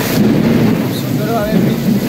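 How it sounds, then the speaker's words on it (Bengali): Rain falls steadily outdoors where motorbike riders have stopped on a ride to Jiaganj Sadarghat, a loud, dense wash of drops with a low rumbling undertone. "খুব সুন্দরভাবে বৃষ্টি হচ্ছে,"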